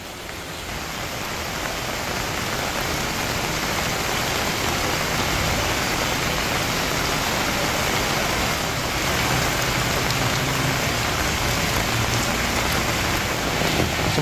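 Heavy rain pours steadily during flooding in Jakarta, a dense, loud, unbroken hiss of rainfall on surfaces that swells slightly at the start and holds constant, with no voices.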